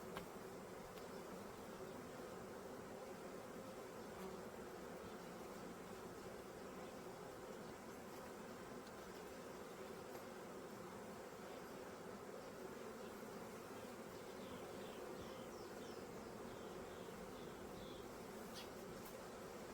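A swarmed honeybee package buzzes continuously while being transferred into a Ukrainian hive, a dense, steady hum of many wings close by with no talking.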